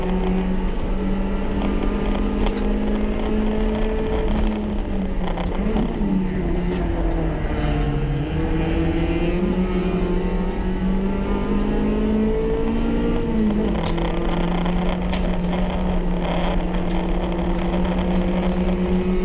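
A race car's engine drones loudly and continuously on track at Tsukuba Circuit, holding high revs with its pitch sagging and climbing through gear changes, close and steady throughout with no talking.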